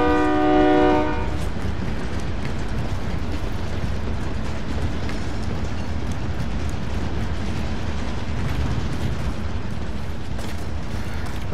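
A train in Call of Duty: Modern Warfare rumbles past loud and close with a short horn blast at the start, followed by continuous heavy rolling clatter.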